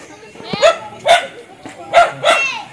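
Pet dogs bark in four sharp, loud bursts spaced about half a second apart, close by, with low background noise between the barks.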